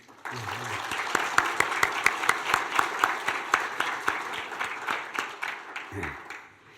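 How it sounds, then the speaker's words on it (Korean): A church congregation at an evangelistic meeting gives warm, steady applause to musicians, a dense patter of many hands clapping that swells and then fades as a voice starts to speak. "우리 집 박수 격려 한번 해드리면 좋겠어요"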